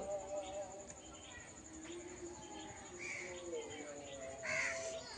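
Crows caw now and then in an open yard where crows and chickens peck at insects, the calls moderately distant and mixed with soft background voices and outdoor ambience.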